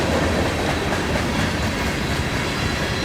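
A locomotive under throttle pulling a train on a foggy morning, a loud, continuous rumble with rail clatter close by and no talking.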